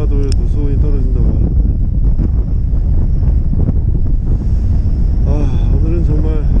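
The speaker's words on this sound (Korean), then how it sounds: "아, 오늘은 정말 바람 엄청나게 터집니다." Strong wind buffets a fishing boat at sea during a cold-snap webfoot octopus fishing trip, a steady roaring rumble with gusting noise pressing on the microphone throughout, while someone talks over it.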